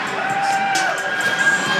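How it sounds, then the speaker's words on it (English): A crowd at a monster truck show in Pasco, Washington, cheers and whoops loudly in a short burst of mixed yells and shouts, with a tonal whine running underneath. "Come on, cheer him on, make some noise."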